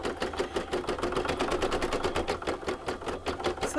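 Embroidery machine sewing a satin decorative border stitch around a maple leaf applique coaster, a fast even rhythmic needle clatter, close and loud throughout.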